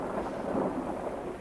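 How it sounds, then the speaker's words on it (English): Deep rolling thunder rumbles steadily through a pouring rainstorm, a dense continuous roar with no voices, heard from inside a car with rain streaming over the windshield. "In spite of the dramatic lightning and the rolling thunder."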